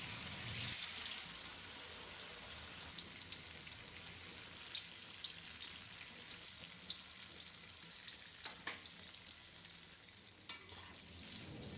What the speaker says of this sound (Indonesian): Di sini sudah saya panaskan minyak, kemudian saya akan menggoreng tahunya dulu.